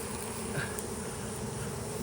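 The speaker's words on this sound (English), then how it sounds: "We capture a swarm of bees." Honey bee swarm buzzing steadily, a dense continuous drone of many wings, fairly faint and even throughout, no voices.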